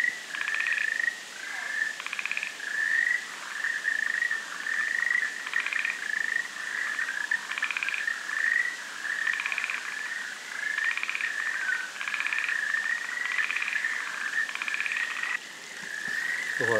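Frogs call at night in the forest of Amami island, Japan, a dense, steady chorus of rhythmic croaks and trills repeating without a break, close and fairly loud, with faint insect chirps underneath.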